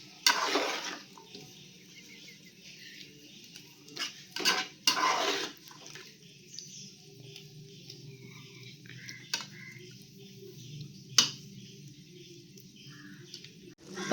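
Curry is stirred in a cooking pot, heard as intermittent clinks and scrapes of a spoon against metal over a faint background, with a few sharp knocks spread across the stretch.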